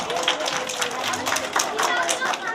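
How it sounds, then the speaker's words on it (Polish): An audience at a World Book Day event claps for a contestant, brisk uneven hand claps from a small crowd, with voices and chatter running under and through the clapping. "Brawa dla Konrada."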